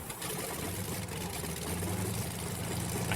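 A helicopter engine in the DayZ video game drones steadily and loudly throughout, a dense, unbroken low rumble with a constant hum beneath it and no pauses.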